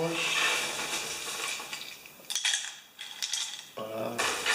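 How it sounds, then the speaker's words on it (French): Homemade muesli with dried fruit being stirred in a bowl, giving a continuous dry rustling and scraping with a few sharper clinks of a utensil, close by. "on mélange"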